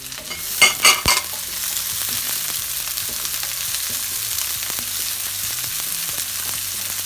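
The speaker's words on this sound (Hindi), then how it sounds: "तो हल्का सा सौटे करेंगे" Bell pepper sautéing in a pan for Italian pasta: a couple of sharp clanks at the start, then a steady close sizzle with faint stirring and a low hum underneath, no voices.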